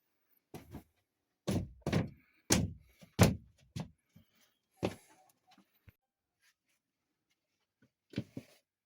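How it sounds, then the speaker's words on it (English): A plywood sheet being laid down over insulation on a floor gives a close series of knocks and thumps, several in quick succession, then a few scattered softer taps with quiet gaps. "we're putting down the plywood right now, hoping it fits"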